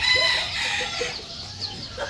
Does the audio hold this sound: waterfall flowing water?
no